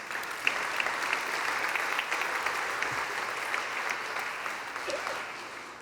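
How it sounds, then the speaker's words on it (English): A conference audience at a capital conference gives a sustained round of applause, many hands clapping in a dense, steady roar with scattered sharper claps, easing slightly at the close. "So another round of applause for all of our companies,"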